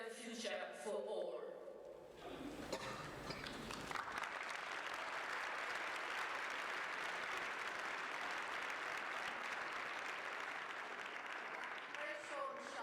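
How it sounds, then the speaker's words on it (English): Crowd at a trade union pre-budget rally breaks into applause after brief speech, then long sustained clapping fills the hall, steady and even to the end. "We will relay your applause to Bernadette tomorrow."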